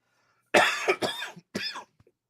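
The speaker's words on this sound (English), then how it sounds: "Not with this cough." A person coughs in three harsh, close bursts, the first two running together, followed by a faint short throat sound at the end.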